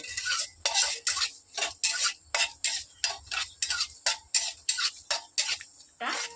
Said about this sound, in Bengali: তেল অল্প করে, লঙ্কা ছিঁড়ে দেবো, দিয়ে একটু নেড়ে নেব